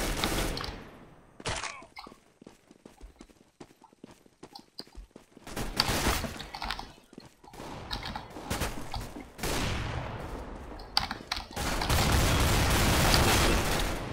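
Video game gunfire from a CS:GO Gun Game match, rapid bursts of shots and clattering mechanisms mixed with footstep-like sounds, dense and loud through most of the stretch with short quieter gaps.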